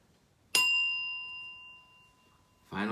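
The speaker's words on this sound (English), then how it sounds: "Final bell." A single meditation bell is struck at the close of a Buddhist meditation session, ringing out with a bright attack and a long, clear sustained tone that slowly fades; no one speaks during the ring.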